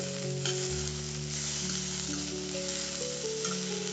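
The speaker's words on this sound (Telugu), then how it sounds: "అల్లం వెల్లుల్లి పేస్ట్ని కూడా వేసి బాగా పచ్చివాసన పోయేంత వరకు ఫ్రై చేసుకోవాలి" Ginger-garlic paste and onions fry in a pan for a country chicken curry with gongura, a steady, even sizzle heard close, set against continuous background music.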